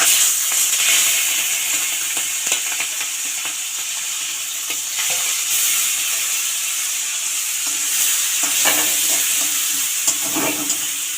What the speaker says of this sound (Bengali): কড়াইটা গরম হলে চিংড়ি মাছটা ভেজে নেব।